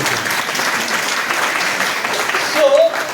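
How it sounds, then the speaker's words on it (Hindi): Audience applause at a motivational education talk, a steady dense clapping across the whole stretch with a brief swell near the end. "एक बार आरसीएम के लिए तालियां होनी चाहिए।"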